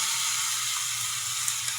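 Steady sizzling and hissing of fried tilapia and tomatoes in a hot pan, continuous and fairly close, with no voices.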